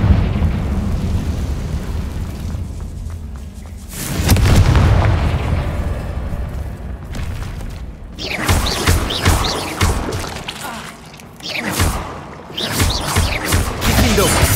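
The Confringo spell in the video game Hogwarts Legacy sets off a deep, booming explosion with a rumbling tail, followed by more crackling blasts and impacts from other spells; a voice speaks briefly around the bursts.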